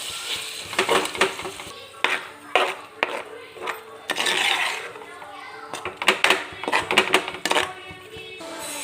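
A prawn curry with ground coconut is stirred in a pot, with scraping and clinking of a spoon against metal in irregular bursts, while people, including a child, talk throughout.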